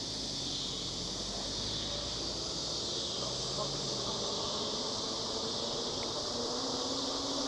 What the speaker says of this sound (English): Yeah, cicadas are still out.